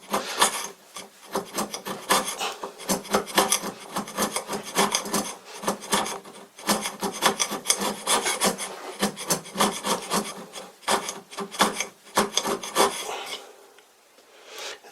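A homemade metal surface scraper worked against a metal surface, producing a close, steady series of rapid rasping strokes in a regular rhythm for about thirteen seconds, then stopping.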